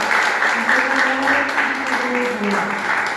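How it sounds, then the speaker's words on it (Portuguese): A church congregation applauding during a worship service, steady clapping under a sustained voice or singing that carries through. "Pode ficar de pé, se você quiser aplaudir ao Senhor"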